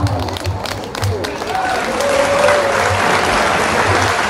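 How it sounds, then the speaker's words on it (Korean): An audience at a grape festival stage show applauds a singer, a steady swell of clapping that builds and holds, with a voice speaking over it near the start. "박수 한번 주세요"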